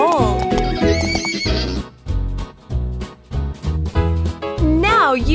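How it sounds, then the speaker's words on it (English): A horse neighs loudly with rising and falling whinnies at the start and end, while rhythmic hoof clip-clops thud steadily through the middle, close and clear over a bright cartoon-style backing. "Horses can sleep standing up. And they love to run fast."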